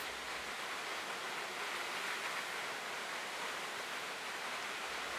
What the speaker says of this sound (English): the river departs Lake Victoria in a surge of brown and silver water